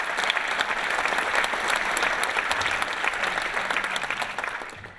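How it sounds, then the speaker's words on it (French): An indoor crowd at a town mayor's New Year greetings ceremony applauds for a project leader, with dense, sustained clapping that stays loud throughout and fades slightly at the end. "d'applaudir Claudette Brosset, qui est chargée de ce projet"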